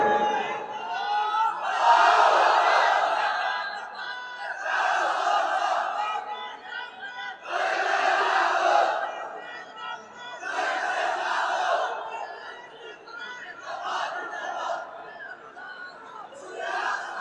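A large gathering at an Islamic sermon chants the takbir in repeated call-and-response waves, a leader's cry answered each time by a loud massed roar of voices, about six rounds with short pauses between.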